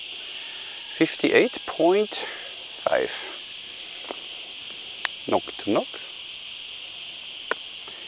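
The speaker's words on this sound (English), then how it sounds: "There's one tree and there are all these cicadas." A tree full of cicadas drones with a constant high-pitched buzz that runs unbroken throughout, while someone talks intermittently in the foreground.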